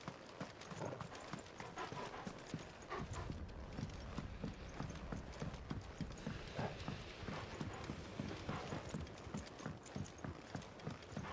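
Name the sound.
six-legged horse galloping, from a video game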